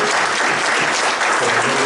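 Loud, dense applause from an audience honoring graduates of a job-training class at a ceremony, a brief unbroken burst of many hands clapping close by.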